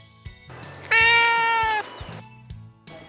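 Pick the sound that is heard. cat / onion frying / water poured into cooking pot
cat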